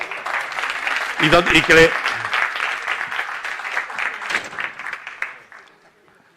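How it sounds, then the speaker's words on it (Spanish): An audience applauds at the close of a popular-science talk, steady clapping that swells briefly mid-way as voices speak over it, then thins and fades out. "Venga, pues aplaudimos, ¿no?"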